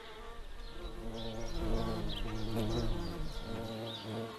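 Wild bees buzz among garden beds in a steady, close droning hum that swells and fades slightly as the insects move, with faint bird chirps in the background.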